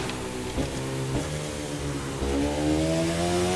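A motorcycle engine roars steadily in a racing video game, a sustained droning note that climbs in pitch toward the end as it revs higher, loud and continuous with no talking.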